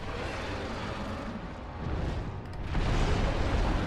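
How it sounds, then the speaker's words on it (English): A deep, rumbling explosion from the Dark Souls video game, fought against the Centipede Demon, rolls out as a dense, roaring burst that swells louder toward the end, heard alone without talk. "I wish that didn't explode."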